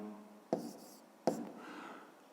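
Chalk strokes on a school board as math figures are written out, two distinct tapping scrapes about a second apart, close and fairly quiet.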